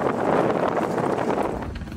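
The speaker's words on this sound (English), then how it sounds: "That was a gust." A gust of wind buffets the microphone on a boat dock, a loud, rough rushing that rises and eases over a couple of seconds.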